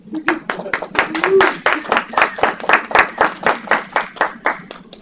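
Audience at a comic con panel clapping in a steady, rhythmic beat, loud and close, with a voice heard over the start.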